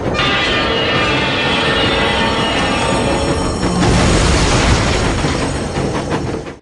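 A train in a Soldier of Fortune 2 game level rumbles loudly on rails as power shuts down, a dense continuous grinding roar that swells into a heavier surge before cutting off, with no voices.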